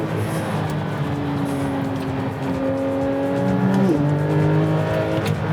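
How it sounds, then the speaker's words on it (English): Porsche 911 GT3 (992) with its high-revving flat-six climbing toward a 9,000 rpm redline, a strained rising wail that steps down at an upshift and climbs again, loud and close on the move. "this car just sings at high revs"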